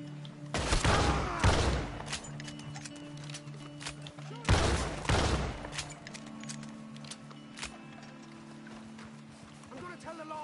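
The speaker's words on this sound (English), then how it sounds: "I got a shotgun." Shotgun blasts in Red Dead Redemption 2, two heavy booming shots several seconds apart with long decaying tails, over ambient game sound and a speaking voice.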